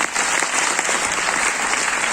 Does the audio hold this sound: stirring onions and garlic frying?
no